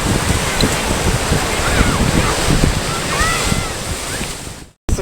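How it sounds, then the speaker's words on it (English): Ocean surf at the Redondo Beach Topaz jetty rolls and crashes in a steady roar, with heavy wind buffeting the microphone and a short dropout near the end. "Watch the surf."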